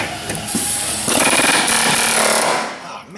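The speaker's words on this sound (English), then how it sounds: "Just gonna take the air hammer. Just gonna wail on that a little bit" A pneumatic air hammer rattles hard against the castle nut on a Chevy Tahoe's pitman arm, a loud continuous burst of rapid impacts close up for about two and a half seconds before cutting off.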